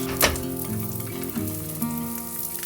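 Eggs fry in butter in a non-stick pan, a close, continuous sizzle with small pops and a faint hum beneath it, and no one speaking.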